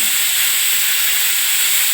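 Steady loud steam hiss from a stovetop pressure cooker whistling while dal and vegetables cook on a gas burner, a continuous bright rush with no break.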